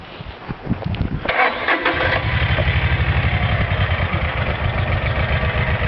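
A weed wiper machine's small engine cranks and catches, then settles into a steady, close, rhythmic putter that runs loud and even to the end, with no talking.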